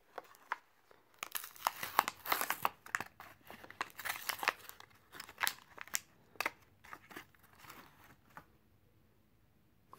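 Plastic and cardboard packaging crinkling and rustling in close, uneven bursts while a boxed Ford Mustang Mach 1 model car is unpacked, busiest in the first half and then tapering to a few scattered crackles.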